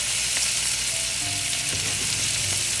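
Vegetables, sausage and potatoes frying together in a one-pan breakfast skillet, a loud unbroken close sizzle with occasional light stirring clinks.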